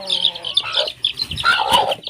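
Native hens and Brahma chickens on a small backyard farm cluck and call close up, a run of short, uneven clucks and squawks with brief gaps between them and no speech.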